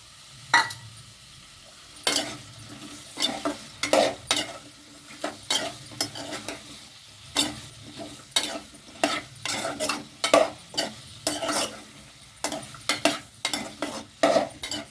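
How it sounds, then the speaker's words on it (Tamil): Vegetables with brinjal sauté in a pan for a South Indian vegetable sambar, a spoon scraping and stirring in a steady, repeated rhythm over a soft continuous sizzle, close and fairly loud, with no talking. "கொஞ்சம் நேரம் இதெல்லாம் வதங்கட்டும்"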